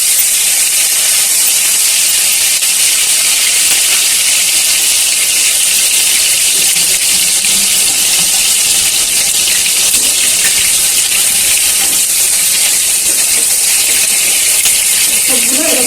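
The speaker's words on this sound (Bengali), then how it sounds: "এখন তেলটা গরম হয়ে গেছে, দিয়ে দিচ্ছি বেগুনগুলা।" Eggplant pieces drop into hot mustard oil and fry with a loud, unbroken hiss that stays constant and dense from start to finish.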